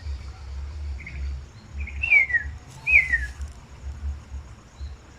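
A Rüppell's robin-chat gives two clear descending whistled calls mimicking an augur buzzard, moderately near, over a low rumbling background with no talk.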